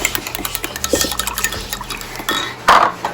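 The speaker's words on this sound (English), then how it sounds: "take our chilled sauce that we whipped up earlier and kind of give it a good mix here" Chilled sauce for hiyashi chuka is mixed in a bowl, with brisk clinks of a utensil on the dish, some wet sloshing and a louder scrape near the end, close and uneven in rhythm, with no voices.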